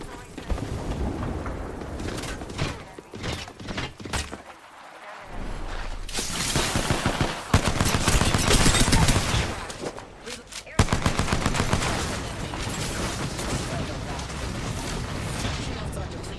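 Gunfire in the video game Apex Legends, dense bursts of automatic shots crackling through most of the stretch, loud and close, with a brief lull midway and game voice lines over it.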